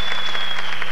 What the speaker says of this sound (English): Do you hear them clapping for you?